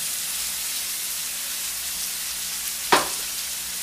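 Sausage and vegetables sizzle in a hot pan with a steady close frying hiss, interrupted near the end by a brief sharp clack as the pan is shifted on the counter.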